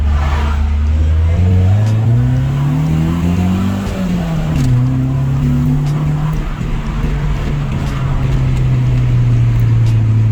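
A Toyota Corolla accelerates hard in a rolling shot, its engine revving loudly with a rising drone, dipping briefly at a gear change and then holding a strong steady roar close by.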